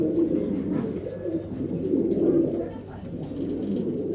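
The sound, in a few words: pigeons cooing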